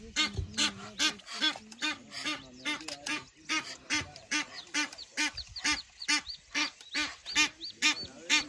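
Ducks quack repeatedly and rapidly, a busy overlapping chorus of loud nasal calls close by.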